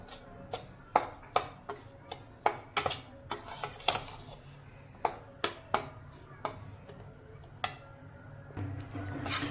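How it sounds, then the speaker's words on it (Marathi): Semolina (rava) roasting in a pan over a medium gas flame, stirred with a spoon that taps and scrapes the pan in a steady run of sharp clicks over a soft background hiss. "हा रवा आपल्याला मध्यम गॅसवर भाजायचा आहे"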